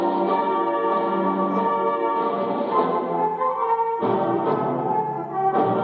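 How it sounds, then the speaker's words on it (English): The North Muskegon junior high school band plays a full, sustained chordal passage at a 1983 MSBOA festival, with bells ringing bright and prominent over the ensemble and a few shifts in the harmony. "Bells are having a little trouble to keep up."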